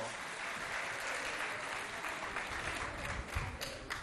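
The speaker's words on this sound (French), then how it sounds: "On les applaudit bien fort." An audience applauds the jury at a school competition event, with dense, steady clapping filling the room for the whole stretch and moderately close.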